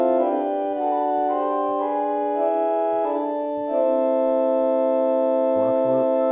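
Pipe organ on a two-manual American Classic instrument, Rohr Flute combined with Zauber Flute stop, held flute-toned chords changing gently, steady and fairly loud with no talk.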